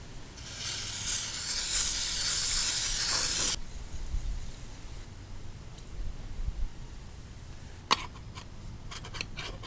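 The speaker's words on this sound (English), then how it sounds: "We'll just take a rag, get some brake cleaner, and clean all this gunk out" Aerosol brake cleaner sprayed into the air cleaner bowl of a Farmall Cub tractor, a loud steady hiss lasting a few seconds, then stopping and giving way to quieter rubbing and a sharp clink.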